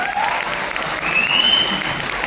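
Audience applause at a speech event: a dense, steady clapping from a large crowd, sustained evenly at close range for a couple of seconds.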